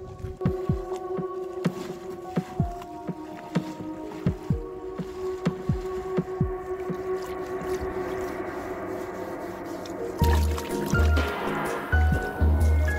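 Water sloshing and dripping as a muddy Peace River cruiser canoe is washed with a baler and sponge on a river at Looe, Cornwall, with irregular splashes and trickles, then heavier rhythmic pouring and scooping near the end.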